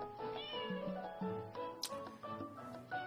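A cat meows several times in quick succession, the calls clear and fairly close, with faint background noise in a drama scene.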